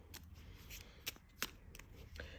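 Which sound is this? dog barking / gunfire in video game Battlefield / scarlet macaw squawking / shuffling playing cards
shuffling playing cards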